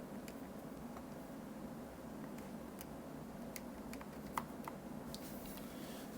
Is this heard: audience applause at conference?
no